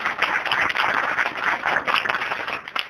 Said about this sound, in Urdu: زوردار تالی اس بات کے لیے